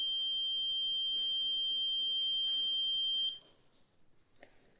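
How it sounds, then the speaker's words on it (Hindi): A small electronic buzzer wired directly to a battery gives a loud, steady high-pitched tone for about three seconds, then cuts off, leaving faint background noise and a brief click. "आप देख रहे हैं कि बजर का जो साउंड है वो धीमा हो गया।"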